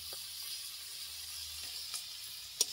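Food frying in a pan with salt and turmeric gives a faint, steady sizzle and hiss, broken by a couple of soft pops near the end.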